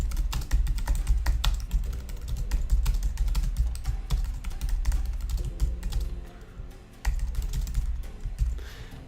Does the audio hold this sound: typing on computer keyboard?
yes